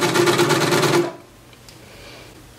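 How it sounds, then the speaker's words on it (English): A 4-thread serger trims and overlocks a fabric edge in one loud, rapid mechanical burst lasting about a second, then cuts off into quiet room tone with a faint click at the end. "Now I'm using a 4-thread serger, and I'm going to clean off that edge."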